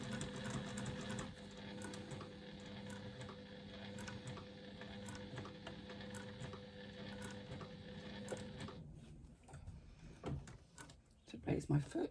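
A sewing machine stitching a single layer of faux leather for card slots, a steady whirring run of rapid stitches that stops abruptly, followed by a few handling clicks and thumps, with a voice talking over it.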